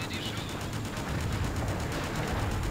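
Sustained rapid .50 caliber machine gun fire in the game Just Cause, a dense continuous rattle of shots pounding steadily throughout.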